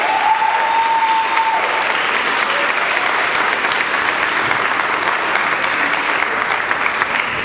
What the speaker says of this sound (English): Can we get another round of applause for Shemiah?